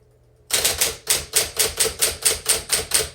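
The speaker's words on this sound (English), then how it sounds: "the reason I like these electrics is I can type pretty fast on them because you don't have to press as far down on them" Typing on a 1959 Smith Corona electric typewriter: after a brief quiet start, a brisk run of about a dozen sharp, evenly spaced keystrikes, close and crisp, with no talking.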